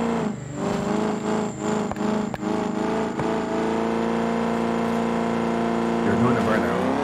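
Car engine in BeamNG.Drive revving up and pulling away, a steady sustained drone with rising harmonics throughout, some earlier bumpy fluctuations and a brief tire-like scrape near the end.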